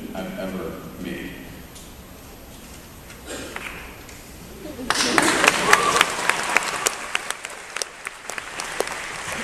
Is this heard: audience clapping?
yes